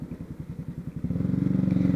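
Honda CB Twister motorcycle engine running close by, a steady rhythmic idle that steps up in level about halfway through into a fuller, faster thrum, alone with no talk.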